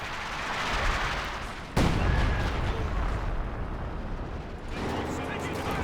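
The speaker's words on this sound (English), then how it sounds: "There's the base fire. The classic base-to-base artillery we've been missing in Company of Heroes." Base-to-base artillery in Company of Heroes 2 at a 2019 World Championship match: a sudden heavy blast lands, followed by rumbling explosions and a second impact near the end, all under continuous commentary.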